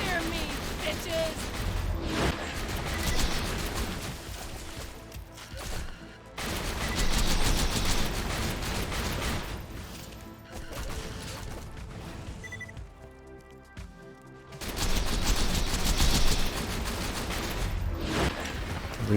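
The Butcher shotgun in Borderlands 2 fires in long, rapid, loud bursts separated by brief quieter gaps, with a voice heard now and then during the shooting.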